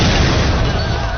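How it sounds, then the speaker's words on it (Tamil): An explosion sound effect, a loud, dense, rumbling boom that fills the whole moment without a break and has no voices over it. "வெடிச்சிருச்சு"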